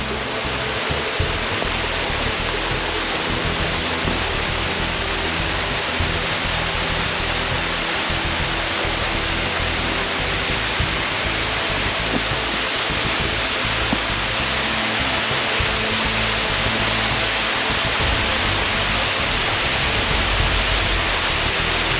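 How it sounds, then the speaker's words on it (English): A continuous, loud rushing roar of falling water, steady and broadband throughout with no pauses. "here we come to waterfall number 2 on our way back."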